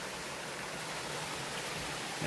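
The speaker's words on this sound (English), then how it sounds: "The water that was coming out of that bank up there comes out down here." Water pouring steadily out of a bank beside an old mine in the woods near the River Tamar, a continuous broadband rush with no talk over it.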